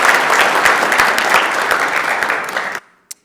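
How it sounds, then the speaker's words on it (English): Sustained applause from the floor of a state senate chamber during a floor session, honoring a senator's son on his 15th birthday; dense steady clapping that cuts off sharply, followed by one final late clap. "so if we can give a big round of applause"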